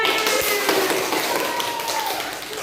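A primary school class claps hands together in a steady, dense patter that fades slightly toward the end, with faint tonal background sounds underneath.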